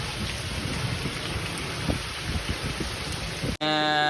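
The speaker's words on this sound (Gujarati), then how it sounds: "વરસાદ પાછો ચાલુ થઈ ગયો જોરદાર, ફૂલ પવન સાથે" Heavy rain driven by strong wind hammers down in a dense, continuous roar with gusty rumbling underneath, then cuts off abruptly near the end.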